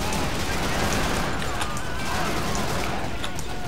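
Dense, continuous gunfire from the Call of Duty 2 Back 2 Fronts mod, a steady wall of overlapping shots and battle din filling the whole stretch at close, loud level.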